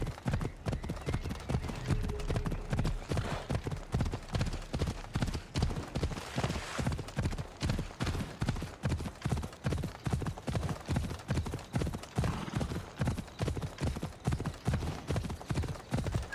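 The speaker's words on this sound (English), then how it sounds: "I need to take this horse either to Adonis or to the stable boy." Steady, rhythmic clip-clop of horse hooves in the Assassin's Creed Odyssey video game, a continuous even trot close by with no speech.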